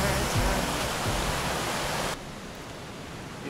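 Creek water rushing steadily on a walk, a broad continuous hiss that drops noticeably quieter partway through, with no talk over it.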